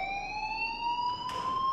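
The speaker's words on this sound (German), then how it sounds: "please turn off that alarm" An alarm wails in the video game Life is Strange, a loud, continuous rising siren-like tone with no one talking.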